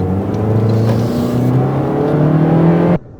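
A 2024 Toyota Corolla Hatchback's 2.0-liter four-cylinder engine with CVT accelerating, a loud, steady drone with engine pitch slowly rising, heard from inside the car, then cutting off abruptly near the end.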